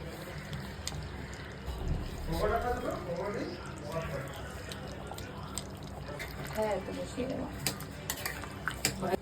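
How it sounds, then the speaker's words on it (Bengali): A spoon scrapes and clinks against a pot while chicken rezala is stirred with ground spices. The metallic clatter is fairly close and repeats unevenly over a low background rumble. "এবার ভালো করে মিশিয়ে নেব।"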